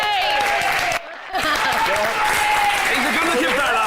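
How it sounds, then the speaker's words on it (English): Studio audience applause for Douglas Anderson, a Scottish bachelor guest on a live TV show, a steady loud wash of clapping that breaks off briefly, then resumes beneath a voice speaking over it. "The round of applause for Doug."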